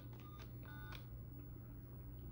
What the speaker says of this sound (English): get your phone and dial this number